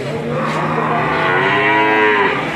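At a cattle market, a cow gives one long, loud, close moo that sustains steadily throughout, with faint market bustle around it.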